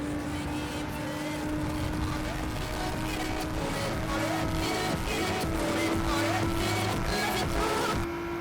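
Engines of a Bugatti and a Mazda RX-7 roar in a racing video game, a steady dense drone of revving motors holding throughout with a sustained tonal whine as the cars overtake, no speech over it.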